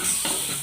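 Potato fry tossed in a hot pan, a short burst of soft sizzling with a quick stir-scrape in the middle.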